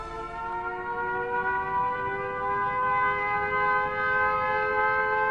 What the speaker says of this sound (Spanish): Las sirenas dan la alarma antiaérea.